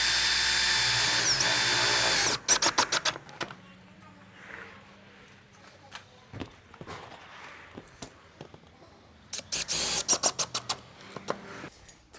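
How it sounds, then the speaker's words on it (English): A power drill drives screws into Colorbond corrugated iron sheets on a gable roof. A loud, sustained whir opens the clip, then sharp metallic taps and clicks follow. A second burst of rapid drilling comes near the end. "we need to put all the screws in"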